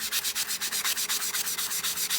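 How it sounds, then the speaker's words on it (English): A sanding block rubs rhythmically back and forth across a model's surface, about a dozen quick, even scratchy strokes close to the ear, with no talking. "I might hit it with a sanding block as well"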